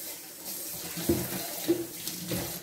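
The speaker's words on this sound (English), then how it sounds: "Rinse my hand off real quick." Tap water running over a hand at a kitchen sink, a soft close splashing with a few brief louder spatters, quiet overall and with no speech.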